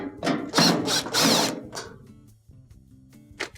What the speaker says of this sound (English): to remove the top, you will have to remove these 3 screws here. All of them can be taken off with the Phillips bit.